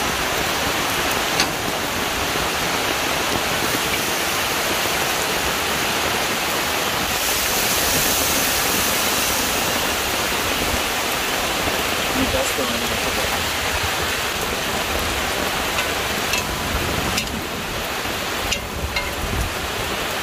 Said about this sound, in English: I hear the rain come back down wicked